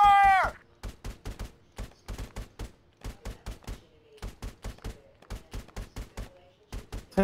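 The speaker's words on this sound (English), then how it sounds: "Yeah, it's suppressive fire." Gunfire in the tactical shooter game ArmA 3 cracks out in sharp, loud, rapid bursts of repeated shots, with short gaps between volleys.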